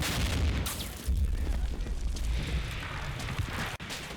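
A demolition charge detonates in the Combat Mission: Battle for Normandy war game, a loud sustained rumbling blast that fills the whole clip with heavy low booming and a sharp crack near the end.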